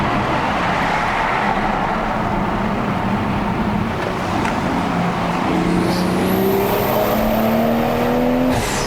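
A Toyota GR Supra A90 with a 3.0L engine, tuned to Stage 2, climbs a mountain road to Genting in Malaysia. The engine drones steadily under road and wind noise, then its pitch rises as it accelerates toward the end.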